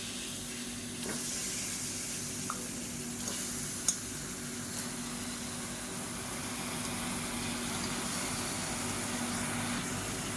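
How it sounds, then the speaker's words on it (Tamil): About one and a quarter kilos of chicken sizzling in a masala for chicken curry, a soft steady hiss with occasional faint clinks of stirring, low and even throughout without talk. "இப்போ இதை இந்த மசாலாவோட பரட்டி விட்டுருக்கலாம்"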